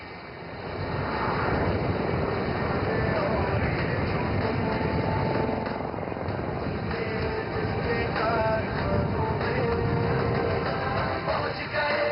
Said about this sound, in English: The helicopter will execute a steep, rapid ascent to gain altitude